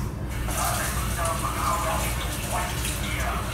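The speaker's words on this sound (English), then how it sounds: "Let me rinse these off." Crabs rinsed under a running kitchen tap for a seafood boil, a steady broadband splash of water flowing throughout, fairly close, with a voice talking over it.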